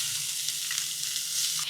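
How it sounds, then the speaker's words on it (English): Onions hit a warm pan and sizzle, a steady hiss close by with faint light crackles and soft clinks, continuing evenly without anyone speaking. "Let's go ahead and throw these onions in."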